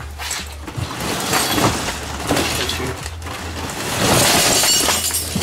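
Broken glass shards clink and rattle in shifting, scraping bursts, close and fairly loud, as the shattered pieces are moved and handled, with a low hum beneath and no speech.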